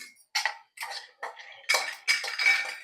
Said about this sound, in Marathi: आता हे मी काढून घेते एका वाटीमध्ये